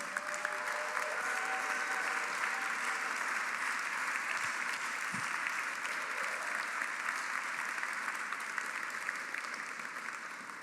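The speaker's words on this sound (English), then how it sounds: "Let's give them a round of applause." Sustained, dense applause from a large audience honoring a nonprofit's board of directors, loud and even for over ten seconds with no voices on top.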